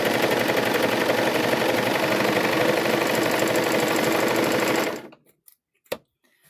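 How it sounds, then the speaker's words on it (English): Serger sewing a dart on fabric for a microwave bowl koozie, a steady fast mechanical whir running nonstop for about five seconds, then stopping abruptly and leaving a couple of faint clicks. "So we're going to sew this dart."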